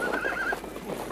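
A horse whinnies in a loud, close, wavering call lasting about half a second, then fades into low background rumble, in a scene from a 1978 film.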